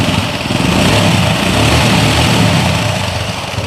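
A TVS Apache motorcycle engine, running poorly after a service, putters and revs steadily close by, a loud continuous buzzing drone without talk.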